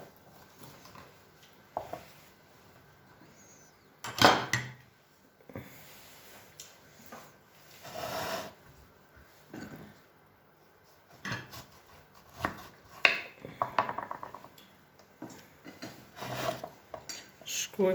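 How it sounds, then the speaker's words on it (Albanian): Two lemons are squeezed by hand for a lemon cake: intermittent close squelches, rubbing and light clinks of a bowl or utensil, coming in irregular bursts with pauses. "Shkojmë duke shtrydhë kështu edhe duke ja hek langun."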